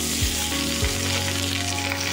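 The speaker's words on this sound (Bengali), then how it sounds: "গরম মশলা, দারচিনি, এলাচ, লবঙ্গ ফোড়নে দেব" Whole garam masala spices, cinnamon, cardamom and cloves, sizzling loudly in hot oil for fried rice, a steady close frying hiss with a couple of brief low thumps as they hit the pan.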